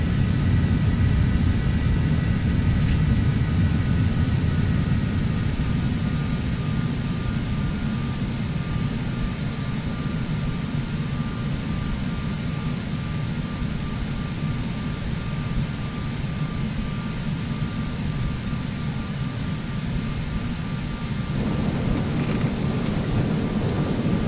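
A Phenom 300 business jet rolls on the runway in the Prepar3d flight simulator, its engines giving a constant low roar and rumble with a thin whine above, steady and unbroken for the full span without any talking.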